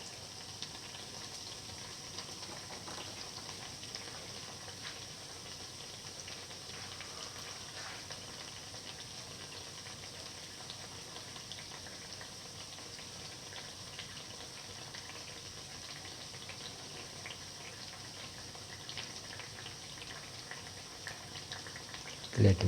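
Date and rice flour fritters fry in hot oil over medium heat, a low continuous sizzle and bubbling, steady and faint, with a small clatter at the very end.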